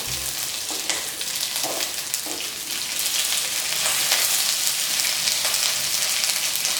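Onions and baby corn sizzle steadily in a pan for a chilli baby corn dish, a continuous close crackle with occasional stirring scrapes and no talk.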